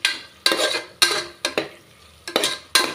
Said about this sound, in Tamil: தக்காளி வந்து நல்லா வதங்கி வரட்டும்